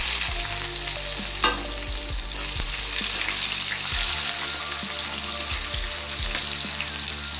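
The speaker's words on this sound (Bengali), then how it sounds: "পেঁয়াজটা হালকা ফ্রাই করে নেব।" Chopped onion frying in hot oil with dried red chilli, bay leaf and whole cumin: a continuous close, busy sizzle with the scrape of stirring, one sharp metallic knock early on, no talking.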